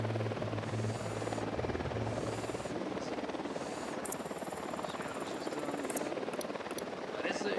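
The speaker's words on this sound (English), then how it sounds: "Don't need that chopper." A helicopter flies in the tactical shooter game Ghost Recon Wildlands, its steady rotor drone continuous throughout under game sounds and voices, with a few brief high tones partway through.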